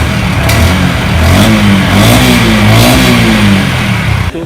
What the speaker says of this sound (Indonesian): Seperti apa sih bunyi motornya pada saat digas?